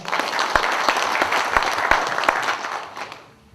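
A large audience at a Korean labour union delegates' meeting claps in a dense, steady wave of applause that fades out near the end.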